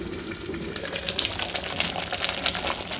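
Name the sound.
curry boiling in pot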